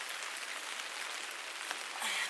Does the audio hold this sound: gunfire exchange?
no